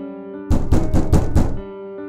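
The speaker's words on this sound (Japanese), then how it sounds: "何者かがすごい勢いで玄関のドアを叩いていたの。" Violent pounding on a front door as a horror animation sound effect: five heavy, rapid knocks in a burst over a sustained background tone.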